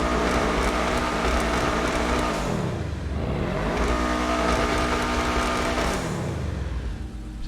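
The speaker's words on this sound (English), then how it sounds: "Let's give it a couple revs." In GTA Online, a car engine revs hard twice, each rev climbing to a high whine and sinking back down, loud and close with a constant exhaust roar.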